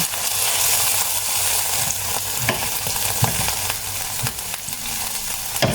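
Chopped tomatoes are sautéed in a hot pan, giving a steady close sizzle with the occasional scrape of stirring. There are no voices.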